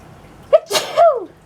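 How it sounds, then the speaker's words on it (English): A person sneezes once up close, a sharp intake followed by a loud burst and a trailing voiced tail, alone in a quiet room. "I'm gonna sneeze."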